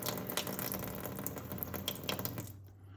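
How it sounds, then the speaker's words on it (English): Cold water runs steadily from an Insinkerator faucet into a sink, a close, continuous splashing hiss that cuts off near the end, leaving a faint low hum. "And so you can get your cold water"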